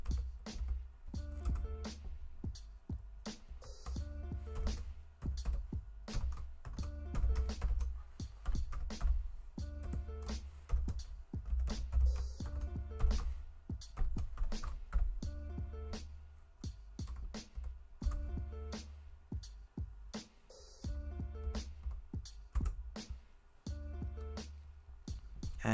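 Rapid, irregular key clicks from a computer keyboard as a root password is entered during a CentOS 8 install in VirtualBox, a steady run of close, dry taps with brief pauses, no voices.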